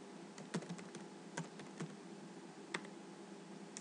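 Quiet, close typing on a computer keyboard while entering a name in GIS mapping software: irregular light key clicks with a few sharper taps, steady through the stretch, with no voices.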